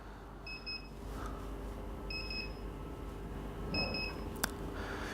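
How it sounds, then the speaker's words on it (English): An AutoWinch warning buzzer goes off before the door opens, giving three short, steady electronic beeps spaced about 1.6 seconds apart over a low background hum. "10 seconds before it opens, it sounds a buzzer"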